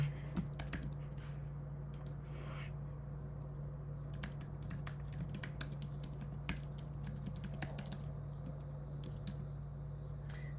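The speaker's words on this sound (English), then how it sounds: "let me make sure I'm typing this right." Rapid, irregular keyboard clicks patter on and off over a steady low hum, close and fairly quiet, with no talking.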